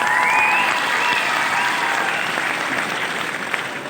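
Audience applause at a live concert in Italy, a dense, steady clapping from a large crowd that holds loud throughout and eases slightly toward the end.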